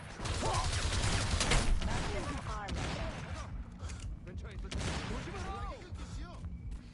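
Shotgun blasts in the video game Crysis, a burst of loud gunfire and mechanical clatter mixed with game noise while people talk over it.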